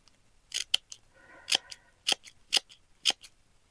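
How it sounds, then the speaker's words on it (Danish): Scissors snip crepe paper into a fringe in a quick, uneven series of sharp close-up cuts, with a soft rustle of paper between them. "Så det er bare klip, klip, klip, klip, klip, klip, så langt op du kan"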